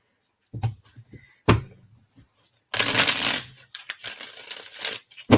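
Tarot cards being shuffled for a reading, riffling in several quick bursts with short pauses, close and fairly loud, alone without talk.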